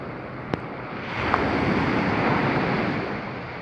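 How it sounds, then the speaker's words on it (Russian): Sea waves surging onto Tuapse city beach on a rainy late-March day: a wash of surf builds and swells into a broad, sustained roar close by, with wind noise over the microphone. "Идет такая большая волна, думаешь, все, сейчас как-то сюда дойдет."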